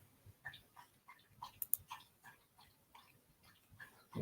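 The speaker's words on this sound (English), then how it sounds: "If I hear noise in the background, that's my dog drinking water." A dog laps water from its bowl in a room, producing a quiet, steady run of wet laps at a brisk, even rhythm, close by.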